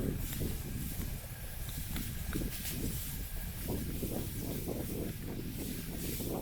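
Steady wind blows outdoors in the Bicol countryside, with a continuous low rumble buffeting the microphone and faint scattered sounds underneath.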